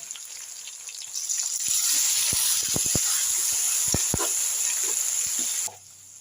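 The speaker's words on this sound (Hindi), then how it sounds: "तो ये सारी चीज़ें इसमें ऐड करेंगे और भूनेंगे इसको" Crushed spices and chopped tomatoes hit a hot pan for an aloo matar dish, setting off a loud surging sizzle with spatula knocks and scrapes, before the frying noise cuts off abruptly near the end.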